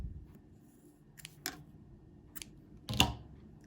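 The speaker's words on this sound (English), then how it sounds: "So now we're just going to snip our yarn." Scissors snip through crochet yarn in a few quiet, separate clicks, with a single sharper cut at the end, heard close up against a silent background.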